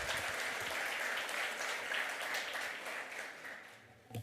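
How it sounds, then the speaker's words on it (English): Sustained audience applause at a crypto talk, dense and steady for about four seconds before thinning toward the end, with no voices over it. "Give a big round of applause for the energy she has shown for the session."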